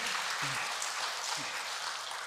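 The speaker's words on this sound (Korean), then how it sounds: "하나님께 영광의 박수 좀 돌릴까요?" Faint, distant applause from a congregation during a church service, a soft even wash of clapping with a couple of brief low voices underneath.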